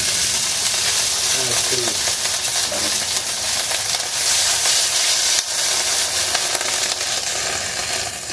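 Small tomatoes sauté in a hot pan for pepper steak, giving a loud, continuous sizzle and hiss with a few faint stirring sounds throughout.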